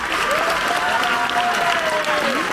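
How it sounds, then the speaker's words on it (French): A theatre audience at a Juste pour rire comedy show claps in a loud, continuous burst of applause, with a voice speaking over it for part of the time. "On peut applaudir bien fort,"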